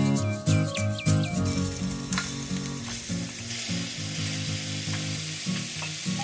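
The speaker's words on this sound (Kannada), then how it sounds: "ಇವಾಗ ಅದೇ ಬಾಣಲೆನಲ್ಲಿ ಚಿಕನ್ನ ಫ್ರೈ ಮಾಡಬೇಕು." Chicken pieces fry in a pan after a ground spice paste goes in. Loud sizzling and spattering runs throughout, with stirring clatter at the start before it settles into a steady crackle.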